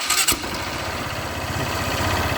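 A motorcycle engine with a loss of compression cranks and catches, then settles into a close, uneven idle with a steady, slightly lumpy pulse.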